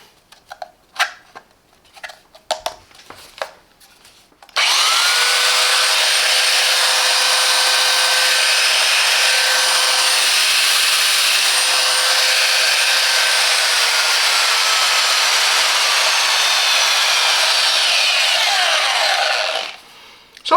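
Parkside PBSD 900 A2 belt sander starting with a few clicks, then running loud and steady with a high whine for about fifteen seconds before winding down slowly to a stop.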